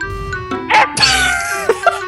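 A person's voice imitates a dog bark, giving a short yelp over a steady musical tone from a video game, with a few brief vocal bursts.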